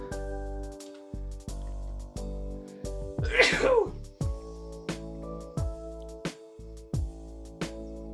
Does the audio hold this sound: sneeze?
yes